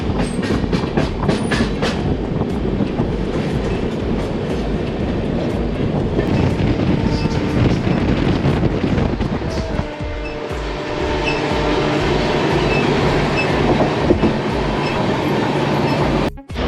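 New Delhi–Dibrugarh special passenger train running on rails, loud and close with steady rumbling and rhythmic clickety-clack of wheels over joints, later joined by sustained tonal hum as it continues.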